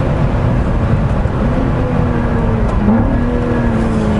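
A 2017 Lotus Exige Cup 430 sports car engine roars loudly and steadily, its pitch climbing gradually as it accelerates harder, with no talking.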